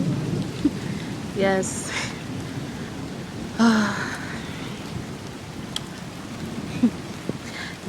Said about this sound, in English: I'm enjoying this most rainy day ever.